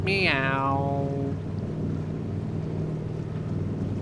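A boat moves across water in the video game Fallout 4's Far Harbor expansion, with a steady low engine drone and rushing hum after a brief rising tone at the start.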